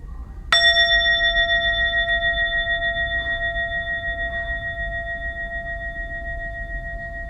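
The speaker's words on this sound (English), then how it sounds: "I will invite the bell and I will guide a short mindfulness practice." A mindfulness bell is struck once, giving a clear bright ding that rings on with a long, slowly fading shimmering tone in an otherwise quiet room.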